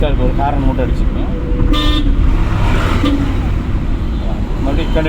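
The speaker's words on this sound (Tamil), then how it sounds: "பஸ் காருக்கு ஒரு ஹாரன் மட்டும் அடிச்சுக்கோங்க." A car horn gives a short toot for a bus amid road traffic noise, heard once near the middle over a running engine, with an instructor talking.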